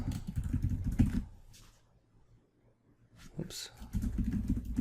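Quick bursts of keys clattering on a computer keyboard, close by, with a quiet pause between two typing spells while someone talks over it.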